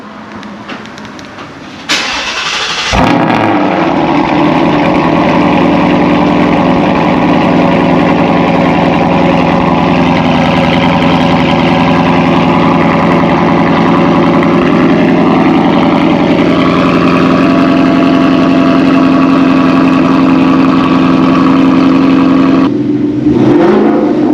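A 2022 Ford Mustang GT V8 running on E85 fuel cranks and fires, then settles into a loud, steady, rumbling idle that holds close and continuous, ending in a brief cutoff.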